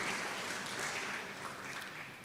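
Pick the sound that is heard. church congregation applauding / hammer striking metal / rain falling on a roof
church congregation applauding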